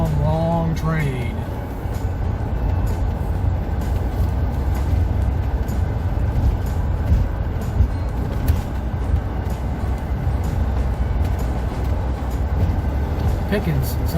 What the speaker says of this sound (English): That's a long, long train.